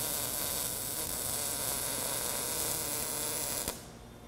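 A steady, loud buzzing crackle of an arc welder running a fillet weld, made with the help of a welding square, holds evenly for several seconds, then stops abruptly near the end, leaving near silence.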